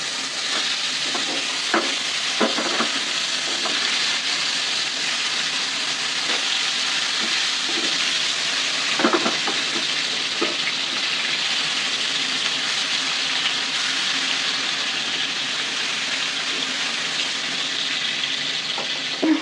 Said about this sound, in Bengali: এই যে এই কই মাছটা আমি এখন ভাজবো